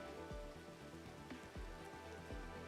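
Rain in the video game Neural Cloud patters steadily in a soft, even wash, with faint rhythmic drops repeating beneath it and no talk.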